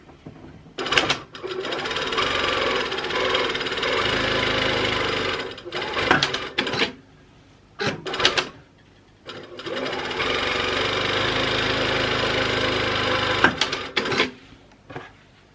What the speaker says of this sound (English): And I'm going to sew just a straight line.